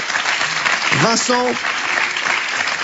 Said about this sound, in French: Applaudissements, voilà